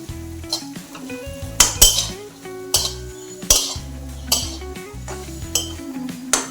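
Leftover chapati pieces fried in a pan for phodnichi poli, with repeated metallic clinks and scrapes of a utensil against the pan over a low, steady cooking hiss, close and fairly loud.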